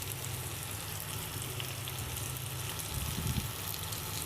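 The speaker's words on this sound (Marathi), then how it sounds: "बारीक गॅस छान फ्राय करून घेऊ दोन्ही साईड" Fish coated in masala frying on a tawa griddle over low gas, giving a steady, close hiss of sizzling oil that swells briefly near the end.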